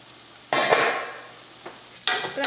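Chicken masala curry stirred in a pan: two bursts of scraping and sizzling as the spoon moves through the thick gravy, separated by a quieter simmer, close and fairly loud.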